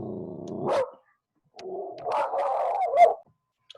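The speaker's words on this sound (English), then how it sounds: "Sorry about the barking dog." A dog barks in two bursts, the second longer and rougher, close and fairly loud, with a short pause between them and no talking.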